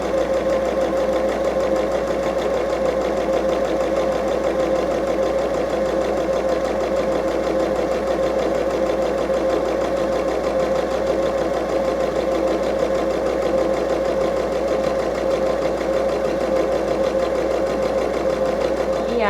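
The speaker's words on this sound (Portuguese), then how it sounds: "Agora, lá na minha máquina, eu vou passar um pontinho decoradinho aqui." A home sewing machine runs a decorative stitch along the edge of fabric, a steady, loud, continuous mechanical whir that holds without pause.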